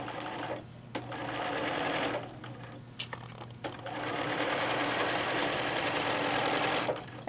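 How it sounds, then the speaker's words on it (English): A sewing machine stitches fabric placemats in a steady, close mechanical whir. It stops briefly twice, at about one second and again near three and a half seconds, then resumes and runs on at an even pace, with no voices. "All right, again, we're going to stitch."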